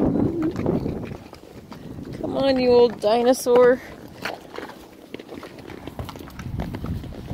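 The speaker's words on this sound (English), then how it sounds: "this horse behind me is going to pull me" Horse hooves clip-clopping on a Mount Lemmon mountain trail, soft irregular thuds under outdoor wind while a person talks and a horse briefly whinnies.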